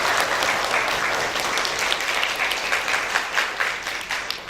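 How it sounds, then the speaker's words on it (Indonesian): Audience applause at a school visit event in Gorontalo, a dense, sustained crowd clapping that stays steady and fairly loud throughout, with scattered sharper claps standing out. "Tepuk tangan dulu untuk SDLab ya."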